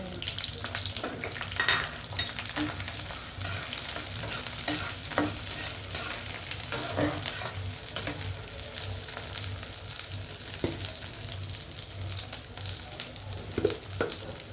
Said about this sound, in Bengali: তেলটা গরম হলে এখন আমি পেঁয়াজটি দিয়ে দেব